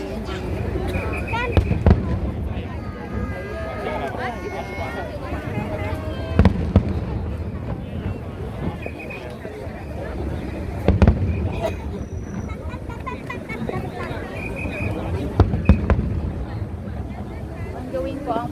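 A fireworks display at Macau Tower for National Day, with dull booms and crackles bursting at irregular intervals amid wind noise and steady crowd chatter and nearby conversation.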